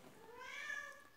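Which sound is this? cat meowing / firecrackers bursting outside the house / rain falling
cat meowing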